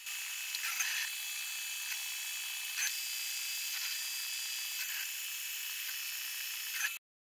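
A laser engraver marking calibration targets onto a plywood sheet gives a steady high-pitched mechanical whir with faint periodic ticks, continuous and fairly quiet for about seven seconds before stopping abruptly.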